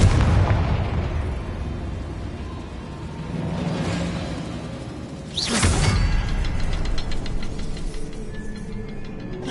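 A Confringo fire blast spell erupts in the video game Hogwarts Legacy, one loud booming burst landing just past the midpoint over a steady magical rumble, with another swelling whoosh a few seconds earlier.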